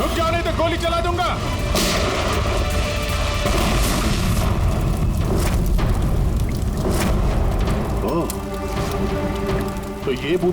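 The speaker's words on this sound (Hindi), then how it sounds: "जैसे बैग से ये नोट बाहर गिरे, बॉम्ब ट्रिगर हो गया।" A booby-trap bomb explodes in a Hindi TV crime drama, a loud booming blast with rumbling debris and crackle that fills the scene, mixed under dramatic effects and voices.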